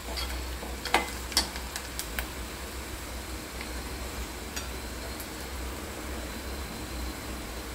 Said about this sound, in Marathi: कांदा भाजायला लागल्यानंतर त्यामध्ये आपण टोमॅटो टाकत आहोत।